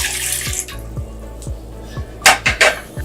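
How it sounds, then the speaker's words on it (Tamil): A cup of water is poured into a cooking pot to start jaggery syrup, a short splashing pour with a few louder bursts near the end over a faint steady ticking in a quiet kitchen. "பாத்திரத்துல தண்ணி 1 கப் ஊத்திக்கோங்க."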